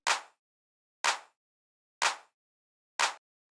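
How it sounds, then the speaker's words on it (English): Four crisp, bright claps spaced evenly about a second apart, each with a short decaying tail and silence between. "Next sound I have here is this clap, which sounds like this."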